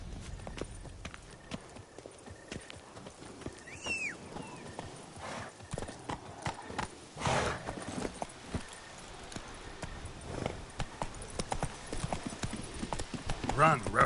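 Roach, the horse in The Witcher 3, gallops with rapid, close hoof clip-clops and a brief whinny, while voices talk and other game sounds rise over the hoofbeats.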